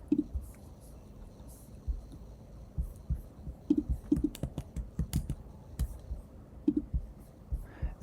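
Computer keyboard typing: rapid, irregular key clicks in quick clusters, fairly close and moderately loud over a low background hum, with no voice.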